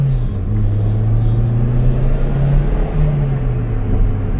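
Toyota Starlet turbo engine fitted with a boost controller and a loose wastegate actuator, rumbling loudly and steadily at close range with a low droning tone that wavers slightly in pitch.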